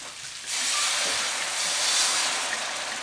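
White wine hitting a hot pan of sautéed vegetables, a sudden loud, steady sizzle that bursts in after a quiet moment and holds strong to the end.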